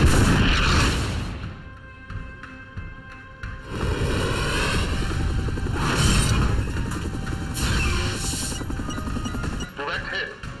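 A probe launches from an aircraft in a disaster film about an airplane and a volcano, heard as a loud rushing roar with booming surges under a steady engine drone, with voices speaking over it.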